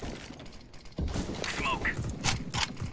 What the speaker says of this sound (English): I'm throwing smoke.